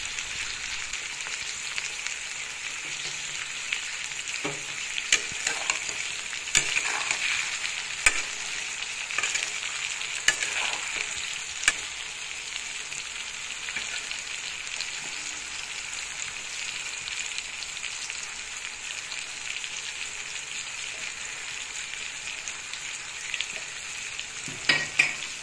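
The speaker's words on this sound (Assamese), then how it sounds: "এতিয়া সোৱাদ অনুযায়ী নিমখ আৰু হালধি দিব, আৰু ভালদৰে যাতে গোটেইখিনি মিলি যায় তেনেকৈ লৰাই থাকিব" Jujubes with salt and turmeric stirred in a pan for a sweet pickle make a continuous soft sizzle, broken by scattered scraping taps of a spoon throughout.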